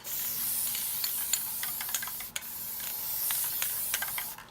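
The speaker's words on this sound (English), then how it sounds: "Okay, one more spray." A continuous aerosol spray hisses for several seconds onto fall leaves, with faint light taps and rustles mixed in, fairly close.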